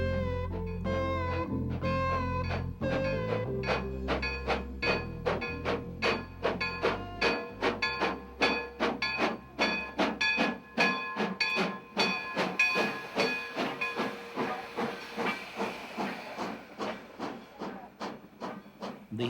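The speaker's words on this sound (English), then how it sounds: "The historic Grand Canyon Railway steam train arrives at the canyon" A Grand Canyon Railway steam locomotive chuffs rhythmically as it arrives at the Grand Canyon, its exhaust beats speeding up and growing crisper as it approaches, with a whistle sounding near the start.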